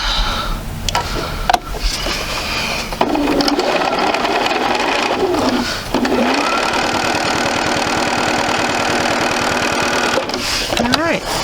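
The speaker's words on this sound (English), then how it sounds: "now we'll go ahead and sew this and flip it" A sewing machine stitches quilt fabric pieces, its motor whirring loud and close in two long steady runs separated by brief pauses and handling noise.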